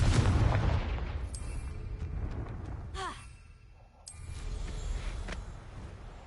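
A Confringo fire spell in Hogwarts Legacy goes off with a sharp blast, followed by a whooshing burst and a fainter second impact, heard alone and at moderate volume.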